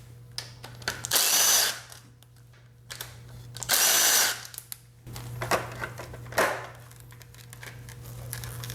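Power tool spinning out two bolts from a plastic bracket on a 2006–2016 Yamaha R6 during valve adjustment work, heard as two loud separate bursts with a softer third near the end over a steady low hum.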